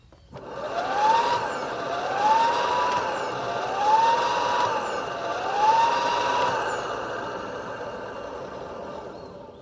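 A 450W hub-motor electric bicycle riding along, its motor whine rising in four repeated pitch sweeps as it accelerates, over a steady rolling and wind noise at moderate loudness.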